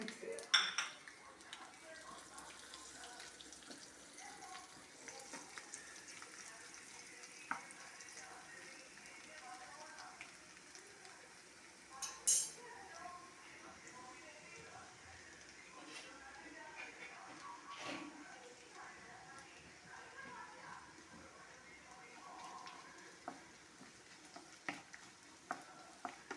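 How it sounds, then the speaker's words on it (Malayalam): Chopped garlic and ginger being stirred into hot oil in a pan while making netholi anchovy pickle, a faint sizzle under light scraping and occasional clinks of a spoon against metal, with a voice talking over it. "അതിലേക്ക് കുറച്ച് വെളുത്തുള്ളി അരിഞ്ഞതും ഇഞ്ചി അരിഞ്ഞതും കൂടെ ചേർത്ത് നമുക്ക് ഒന്ന് മിക്സ് ചെയ്യാം."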